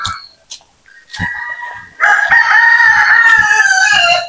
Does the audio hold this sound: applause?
no